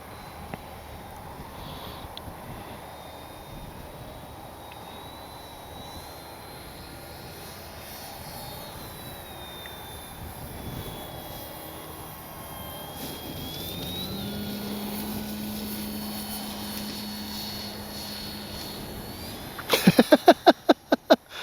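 A Durafly Tundra V3 STOL RC plane drones steadily in flight, low engine hum swelling as it makes a long touch and go on grass, ending in a burst of loud rumbling and crackling near the microphone.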